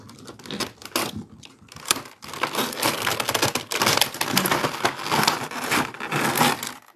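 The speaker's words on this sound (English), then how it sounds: "let me get this box cutter so I can open it." Toy box being cut open with a box cutter: continuous rough scraping, tearing and crinkling of cardboard and plastic, close and loud, with irregular bursts and rustling handling noises throughout.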